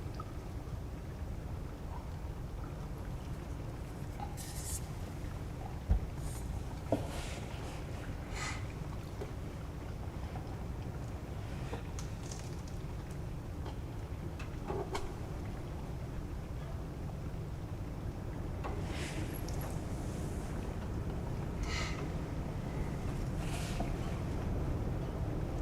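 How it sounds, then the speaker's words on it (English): Strong night wind and rain outdoors outside Nashville: a steady, dense low rumble of gusting air with a broad hiss of rainfall, continuous throughout with a couple of brief knocks, and no voices. "It's really windy here tonight."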